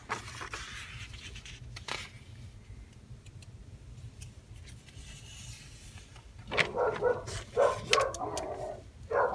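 Dogs bark in short bursts at a home, loud and close near the end after a quieter stretch, with faint ticking and light household noise in between.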